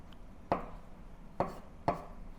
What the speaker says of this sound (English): Just roughly chop it into small pieces